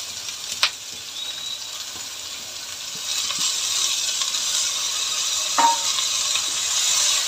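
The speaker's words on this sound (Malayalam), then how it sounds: "നന്നായി ഇതൊന്ന് വഴറ്റിയെടുക്കാം." Sliced onions, crushed ginger and slit green chillies sautéing in a pan, a steady close sizzle with occasional clinks of a stirring spoon against metal.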